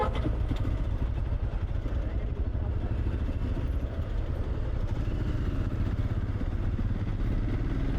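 A Royal Enfield Scram 440 motorcycle rides through the city in second gear, its engine a steady, even low rumble throughout with road and wind noise.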